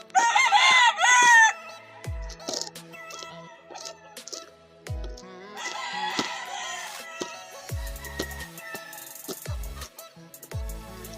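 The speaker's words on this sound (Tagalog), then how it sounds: "Ang daming manok." Many chickens and roosters at a game farm breeding operation, loud crowing bursts mixed with clucking and scattered thumps, several birds close by with others farther off.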